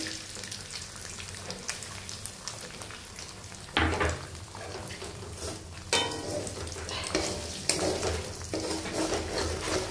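Beaten, salted egg hits a hot pan and fries with a steady crackling sizzle, stirred with scraping strokes that bring louder bursts around the middle and toward the end; no one speaks.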